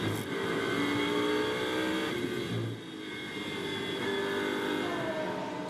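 Lamborghini Super Trofeo race cars at the Barcelona circuit, a continuous loud engine roar as cars pass by, with a brief dip partway through before the high-revving drone resumes, no voices.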